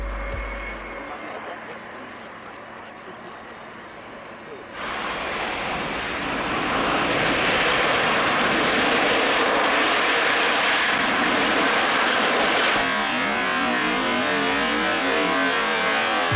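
A loud airplane engine roars close by, swelling into a sustained powerful drone that fills the clip, with voices faintly under it.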